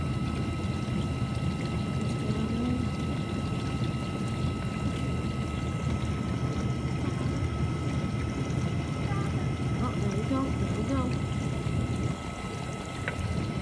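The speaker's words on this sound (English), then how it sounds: "The water is gathering." Water fills inside a GE dishwasher, a steady rushing, pouring stream that runs unbroken throughout and eases slightly near the end.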